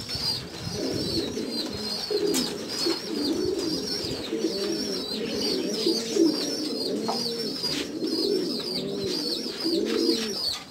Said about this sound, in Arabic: اليوم عندنا ان شاء الله جمع الحمام، ديروا لهم غير الميه ديالهم